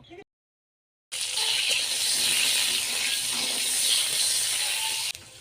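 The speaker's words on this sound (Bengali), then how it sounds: "এবার কেটে রাখা আলুগুলো ভেজে নেব।" Cut potatoes frying in refined oil in a wok, a loud continuous close hissing sizzle that bursts in after a short silence and holds steady for several seconds before stopping abruptly.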